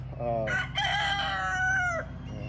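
A rooster crows once, a clear drawn-out call at moderate distance over a low background hum.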